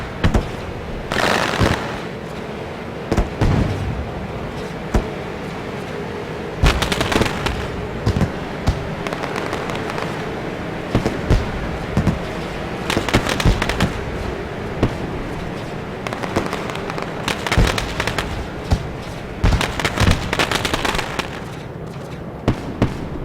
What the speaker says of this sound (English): Catching all the celebratory fireworks.